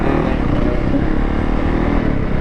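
A quad bike engine revs hard and steadily while being ridden, a loud close droning buzz with rattling undertones that stays constant throughout.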